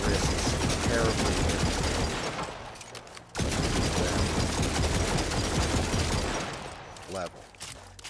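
Light machine gun fire in the video game After the Fall, rattling out as long sustained automatic bursts with a short pause partway through, loud and close before tapering near the end.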